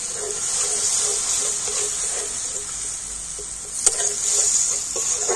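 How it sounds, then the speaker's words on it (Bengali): Spice masala with sour yogurt sizzles steadily in the pan while being stirred for a gaanthi kochu (taro) curry, a continuous bright hiss with soft scraping and one sharp utensil clack near the end. "তো টক দইটা দিয়ে আবার একটু সমস্ত মশলা ভালো করে কষিয়ে নিচ্ছি।"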